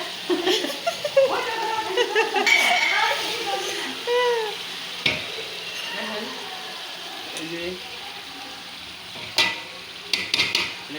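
Bay leaves and spices frying in a pan with steady sizzling and stirring, broken by louder clatters and scrapes, while a voice talks over parts of it.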